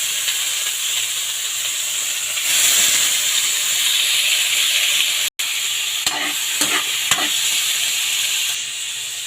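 Pork meat fries in a hot pan with a loud, steady sizzle and hiss, broken by a few stirring scrapes and clinks near the end.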